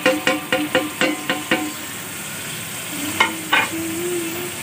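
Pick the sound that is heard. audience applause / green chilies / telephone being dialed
green chilies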